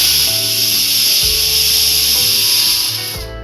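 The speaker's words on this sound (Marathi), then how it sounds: "तीन शिट्ट्या झालेल्या आहेत।" A pressure cooker whistles loudly on the stove while potatoes cook, a steady high steam hiss running the whole time and easing off at the end.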